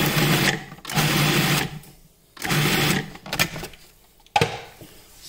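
A food processor pulses crab rangoon filling in short bursts: two longer whirs, then several quicker taps of the motor, close and fairly loud with no talk.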